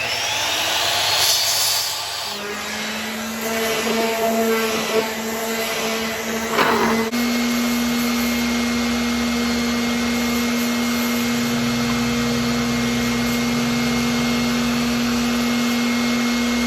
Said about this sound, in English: we're gonna do this on the chop saw